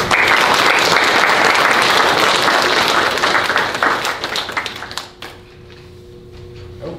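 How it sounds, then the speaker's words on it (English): Loud, dense applause from a live audience at a senior community follies show, sustained for about five seconds before tapering off into a quieter murmur with some scattered claps. "Please give a big round of applause for Dana."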